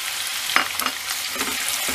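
Sliced large onion frying in hot cooking oil, a steady broadband sizzle with a few soft stirring scrapes, close and moderately loud, no voices.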